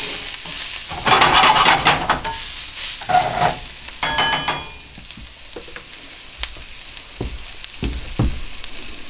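Sliced jalapeno and onion sizzle and fry in a pan, with bursts of loud crackling and several scraping stirs early on, then a quieter steady sizzle with occasional clicks of a utensil.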